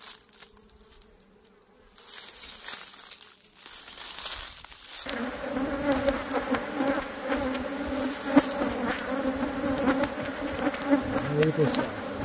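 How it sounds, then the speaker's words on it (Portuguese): A honey bee colony of Apis mellifera buzzes in a hive being checked for a honey super, a constant dense hum that swells louder after a quieter start, with crinkling handling noises. "colônia de abelha"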